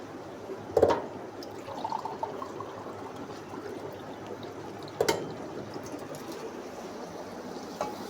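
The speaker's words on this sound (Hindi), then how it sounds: "तो अब मैं इसमें डालूँगी पानी।" Water pouring into a pot of fried chicken for nihari, a steady soft trickle running throughout with a couple of brief clinks near the start and middle.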